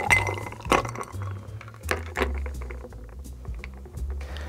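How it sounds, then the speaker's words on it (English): A green paradise cocktail of orange and pineapple juice is free poured back into the glass, bringing bright clinks and clatter of ice and glass, with a low rushing pour running underneath. "all you're going to do is free pour directly back into the glass"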